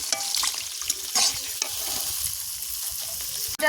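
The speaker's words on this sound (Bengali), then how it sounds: "এবার আমি এর মধ্যে পরিমাণ মতো জল দিয়ে দেবো" Fish roe gravy frying in a pan, with water just added and a utensil stirring through it, giving a steady hiss and sizzle with brief scraping bursts, close and continuous with no talk.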